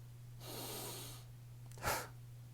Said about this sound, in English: And you start breathing.